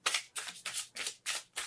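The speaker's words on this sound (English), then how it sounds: "hearing me shuffling off camera" Oracle cards being shuffled off to the side, six quick papery bursts of riffling in a steady rhythm, fairly faint and close, with no talking.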